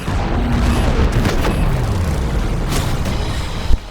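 Booming explosions and bursts from the video game Warframe, aboard a Railjack ship, rumble loud and continuous through the whole stretch with a sharper pop near the end.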